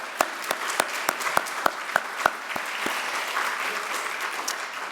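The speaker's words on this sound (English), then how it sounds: "we'll keep the applause going" Audience applause at a society spring luncheon, opening with a few distinct sharp claps that quickly swell into a steady, moderately loud wash of clapping from a room of guests.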